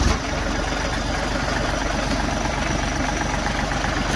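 A John Deere 3032E series compact tractor engine idles steadily and loudly nearby, with a constant low diesel rumble and no change in pace or any talking over it.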